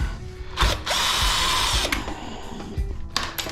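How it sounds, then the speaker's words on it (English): A power drill whirs in quick bursts while backing screws out of a brass door lock from a hotel, its motor revving up and dropping off with a clicking ratchet and faint metal rattle, close and loud. "See if we can get this thing to unscrew these."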